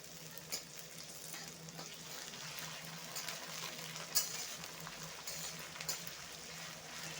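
Ginger garlic paste frying in a pan with onions, a steady soft sizzle with occasional small pops and a stirring scrape, heard close but at low level, no talking.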